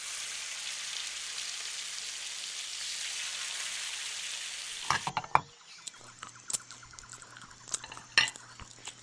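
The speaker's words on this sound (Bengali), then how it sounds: "2টো ডিমও ভাজলাম।" Two eggs frying in a pan on a stove, a strong steady hiss for the first half, then metal spatula scrapes and clinks against the pan over a quieter sizzle.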